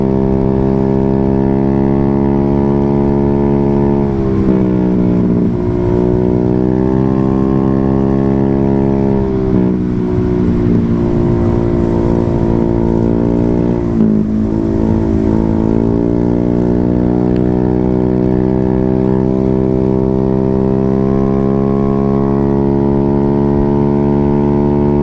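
Automatic scooter fitted with an SC Project full-system racing exhaust, its engine droning loud and steady, with the rasping tone rising and falling through several throttle blips and revs across the whole stretch.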